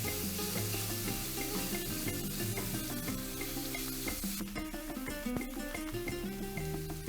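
Onions sizzle steadily in a hot pan while a utensil stirs them, giving a dense, even crackle with occasional scraping and clinking from the stirring.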